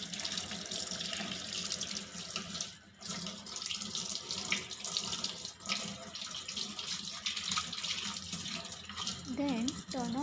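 Tap water runs steadily into a sink while hands are rinsed, a continuous close hiss and splash that fills the whole stretch, with a brief dip partway through.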